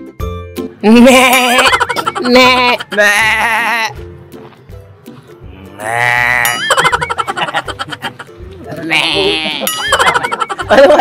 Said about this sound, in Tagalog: Grabe ang kambing batang-bata